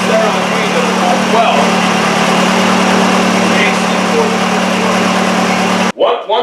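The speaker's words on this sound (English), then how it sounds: "One good thing was that engine fired up beauty." An old diesel engine from an auction buy runs loud and steady just after starting, a constant close idle drone that cuts off abruptly near the end, followed by a brief rustle.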